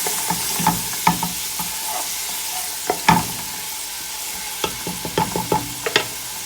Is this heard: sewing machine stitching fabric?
no